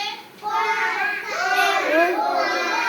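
A young child imitates a crow's caw, making a few high, voiced calls close by that bend up and down in pitch.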